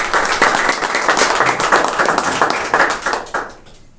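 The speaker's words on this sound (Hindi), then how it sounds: "क्यों ना हम परमेश्वर के लिए जोरदार तालियां दें।" A church congregation claps loudly and steadily for several seconds during a Sunday evening service, dense overlapping applause that tapers off near the end.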